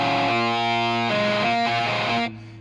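Ample Sound virtual guitar playing a distorted rhythm through a Marshall-style four-speaker stack, thick sustained power chords changing a few times before cutting off abruptly.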